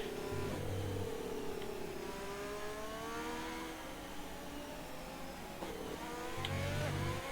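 Formula 1 car in the F1 2020 video game slowing down, its engine note falling steadily in pitch and easing off, then a brief rise in revs near the end, loud and continuous.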